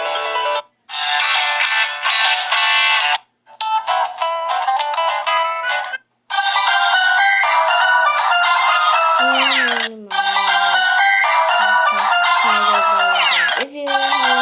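A phone alarm ringtone plays a bright, repeating electronic melody in bursts with short gaps, loud and close, and a lower sliding tone joins in the second half.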